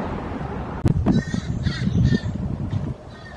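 Several crows caw nearby in a graveyard in short, harsh bursts over a rumbling outdoor background, the calls repeating irregularly for a few seconds.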